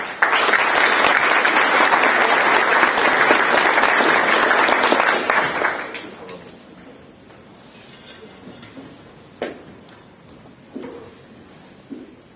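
A conference audience applauds a senator walking to the stage, loud, dense clapping for about six seconds that then thins to scattered claps and small knocks in a quieter room.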